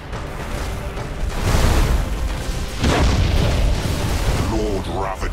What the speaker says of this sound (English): Lord Ravager's ship is destroyed.